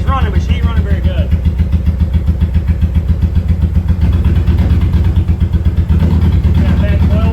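A freshly started engine with a bad coil wire runs at a steady idle with an even, throbbing pulse, loud and close, while a voice talks over it.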